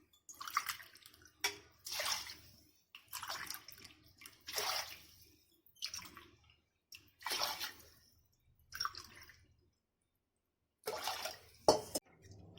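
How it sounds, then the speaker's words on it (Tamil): Water poured in separate bursts into a pressure cooker holding rice and dal for sambar rice, splashing and trickling close by with short pauses between pours and a sharp clink near the end. "5 டம்ளர் தண்ணி ஊற்றணும்."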